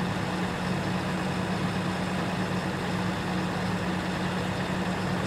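A tractor engine runs steadily in a farming video game during a sugar beet harvest, a constant low idling drone with no breaks, moderately loud and alone throughout.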